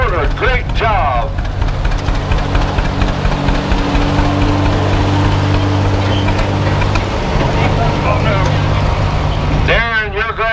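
A 1952 John Deere B tractor labors through a pull at the Portland, Indiana event, its deep, steady engine drone running throughout while a loud announcer voice talks over it at the start and end.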